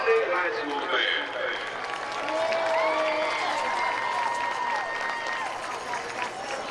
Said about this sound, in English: How about a round of applause for both of those outstanding high school fans?